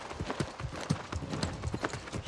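A horse's hooves clip-clop in steady rhythmic beats as it trots along in the New World video game, close and moderately loud with no talk over it.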